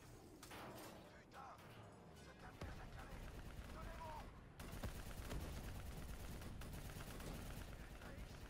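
Gunshots and bursts of fire in a cybernetic adventure video game ring out amid door slams and game noise, mixed with players talking.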